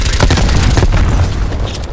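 A frag grenade explodes in Call of Duty: Black Ops Cold War, a heavy, close boom with rumbling debris that rolls on for about two seconds.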